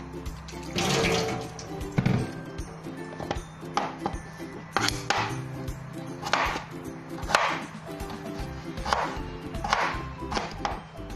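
Tap water runs into a kitchen sink to rinse an egg before poaching, a steady splashing wash broken by repeated clatters and knocks of dishes and utensils, close and fairly loud, with no talking.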